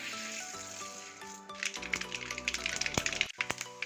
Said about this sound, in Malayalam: എണ്ണ ചൂടായിട്ടുണ്ട്. കുറച്ച് കടുക് ഇടുവാണേ.